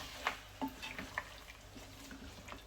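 A spoon stirs chopped tomatoes into chicken curry in a pan, making soft clinks and scrapes over a low, continuous sizzle, fairly faint and without voices.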